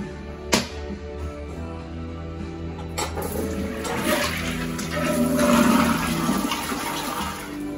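A tall toilet flushes in a showroom demo: a sharp click of the handle, then a rising, rushing gush of water that swells and drains over several seconds, close by.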